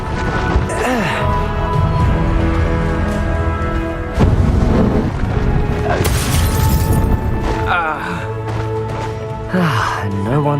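A spell detonates with a heavy boom against a goblin army in Hogwarts Legacy, loud crashing bursts amid combat effects, with voices and grunts heard around it.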